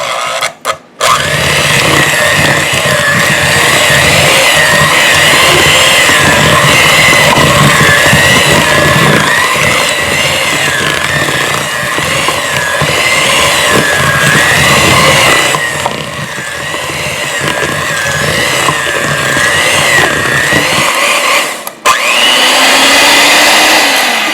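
Electric hand mixer beating butter in a bowl for a from-scratch pumpkin roll cake, a loud continuous high motor whine that wavers in pitch, close up, with brief stops near the start and near the end.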